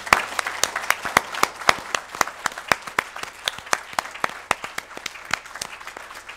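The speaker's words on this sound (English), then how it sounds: "if you want to applaud, you have to applaud very loudly" Audience at the close of a conference applauding loudly: sharp, distinct handclaps ring out steadily over a dense wash of clapping for the whole stretch.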